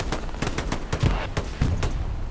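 Hell Let Loose gunfire crackles in quick irregular bursts, sharp close shots mixed with heavier thumps that may include a grenade blast, loud and dense throughout.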